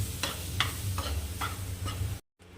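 A spoon stirs homemade mango pulp into semolina shira in a pan, giving several soft scraping strokes over a steady low sizzle, then a brief drop to silence near the end.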